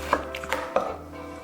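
Three sharp knife chops strike a cutting board in quick, uneven succession as a pineapple is cut, close by and fairly crisp.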